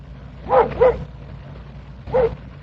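Dog barking in an old radio drama, a pair of quick barks followed by a pause and one more bark, close and clear against a quiet background.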